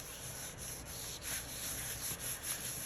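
Hand rubbing across the back of a Gelli print to lift ink from the plate, giving a steady, close dry friction sound with soft swells and no talking.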